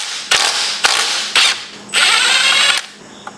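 A half-inch socket ratchet fitted with an adapter, worked during a gasket job on an old barn-find van, gives several loud, close bursts of rapid clicking, with a longer ratcheting run near the end.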